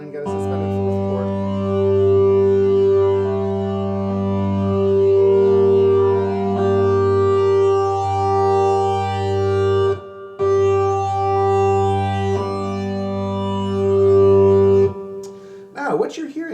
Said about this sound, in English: is 4 sine wave oscillators, each one of which has 3 stages of wave folding